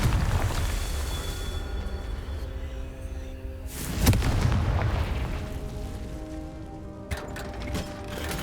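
Confringo blasting spell in the Hogwarts Legacy video game, with a loud fiery explosion bursting midway through a dense rumbling battle din and a second sharp blast near the end.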